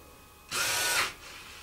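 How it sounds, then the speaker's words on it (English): A surgical power drill bores front to back through tibia bone while an external fixator is fitted. It gives one steady, high whine of about half a second, close and loud, and then falls back to a quiet hum. "I'm going to drill straight from front to back."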